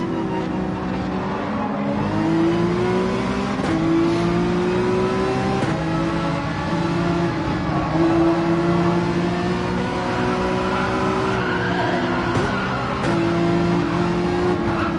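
Porsche 911 race cars accelerating in Gran Turismo 7 during a racing event, a continuous loud engine drone with repeated gear-shift pitch steps and rising revs over about fifteen seconds.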